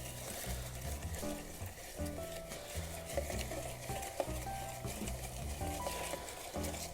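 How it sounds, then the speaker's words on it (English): A Yellow Negroni cocktail stirred over ice, with a steady run of close, light clinks and rattles of ice against glass and a bar spoon, continuous and moderately quiet without talk. "And we'll give it a stir"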